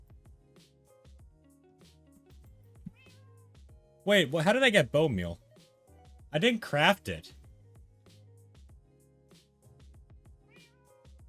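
In Minecraft, a cat gives two loud, drawn-out meows a couple of seconds apart, and someone speaks quietly between them.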